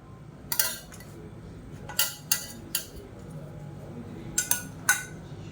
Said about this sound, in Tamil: இப்போ அதை ஒரு மிக்ஸி ஜாரில் சேர்த்துக்கலாம்.